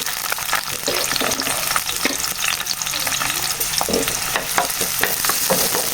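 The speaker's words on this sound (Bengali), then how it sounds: "হালকা একটু ফ্রাই করে নেব।" Onion and garlic frying in oil for vegetable noodles, a loud continuous sizzle close by with frequent scraping stirs of a utensil against the pan, and no speech.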